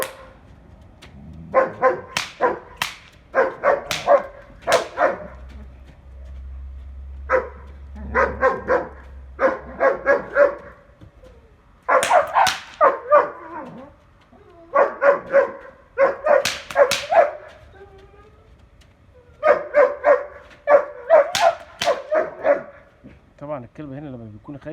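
A dog barks repeatedly in clustered bursts of sharp barks, loud and close, with short pauses between groups and some whimpering yips.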